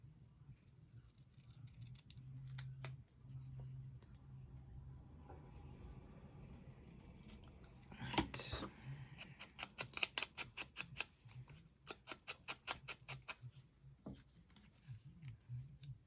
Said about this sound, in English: let's hide the edges with my excellent cutting skills